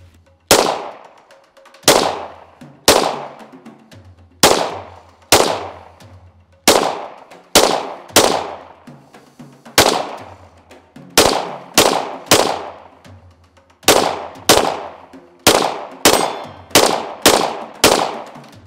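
An FN Five-seveN pistol fires 5.7 mm rounds at a target about 20 yards away, with roughly seventeen loud, sharp shots in irregular quick bursts, each crack ringing briefly before the next.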